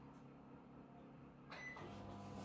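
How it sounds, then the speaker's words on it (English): A microwave oven warming a bowl of cold tea and yeast in a home kitchen, a low steady hum that shifts with a soft click and a brighter whir partway through, quiet and with no voices. "I'm going to put this into the microwave and give it 1 minute 30 seconds"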